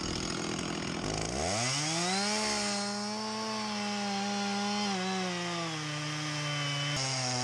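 A chainsaw bites into the back cut on a sugar maple being felled, its engine revving up after a brief start and holding a loud, steady cutting whine with slight pitch dips, close and alone without speech.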